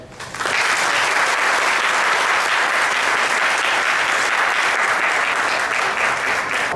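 Audience at a science awards programme breaking into loud, sustained applause that starts abruptly and holds at full strength for several seconds, dense and continuous with no talk over it.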